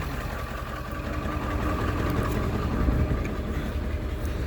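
A stock-intake engine idles loudly and steadily, a dense continuous rumble with a faint rhythmic knock and no other sounds over it.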